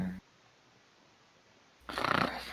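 A player's voice imitates a snoring dwarf sitting in a chair, a short rasping snore that bursts out loudly near the end after a long quiet stretch.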